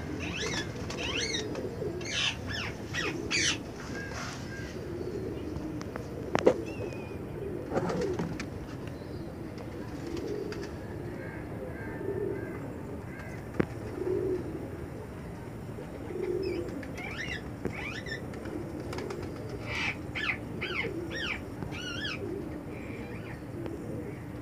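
Pigeons coo softly and repeatedly at a pigeon market in Multan, low rolling calls with occasional chirps and wing flutters amid busy background chatter and market noise.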